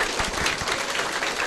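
Audience at a marketing presentation breaks into a short burst of applause, a dense patter of clapping heard up close for about a second and a half.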